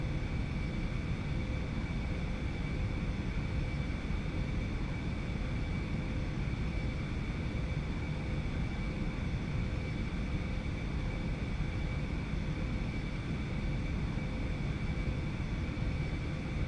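Steady whining jet engine hum from an Aerobask Eclipse 550 taxiing in a flight simulator game, a constant drone with a faint tonal whine and no variation, heard alone.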